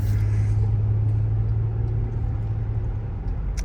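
A Lexus RX330 with a Toyota Camry-type engine drives steadily, its low engine rumble and road noise continuous and fairly loud from inside the cabin, easing slightly toward the end.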